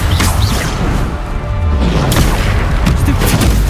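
A Bombarda explosive spell bursts in Hogwarts Legacy on PS5, a loud, dense booming blast with crashing debris that rolls on for several seconds with no break.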